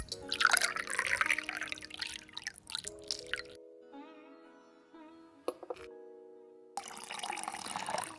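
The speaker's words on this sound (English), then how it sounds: "Add your favorite vodka." Vodka pours into a cocktail shaker in short liquid splashes and trickles, with a few intermittent gurgling bursts separated by gaps, close by, while soft background music plays.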